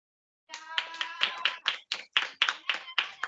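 A congregation claps hands in steady, evenly spaced beats at a Sabbath worship service in Paris, close and fairly loud, with voices singing or calling out over the clapping.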